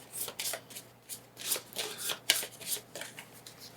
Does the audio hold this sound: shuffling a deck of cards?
yes